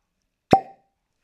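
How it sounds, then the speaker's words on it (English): A cork pops out of a Wild Turkey 70th anniversary whiskey bottle: a single short, hollow plop, close and crisp, followed by silence. "Good cork pop, proper cork."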